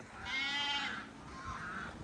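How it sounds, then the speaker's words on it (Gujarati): A goat bleats twice nearby on a farm, a long wavering bleat followed by a shorter one, against quiet background noise. "બકરું માંથી બે બે કરે"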